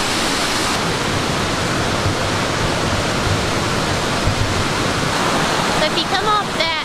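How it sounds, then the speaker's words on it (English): Soco Falls in the North Carolina Smoky Mountains pours in a dense, constant rushing roar heard from a viewing platform up close, loud and even throughout, with a brief voice near the end. "You can see the stream and the beginning of the smaller waterfall that feeds into the big waterfall."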